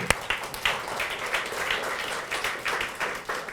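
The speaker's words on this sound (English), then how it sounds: "Round of applause" An audience gives a round of applause at a talk, steady clapping from a crowd at moderate volume that swells slightly and keeps going throughout.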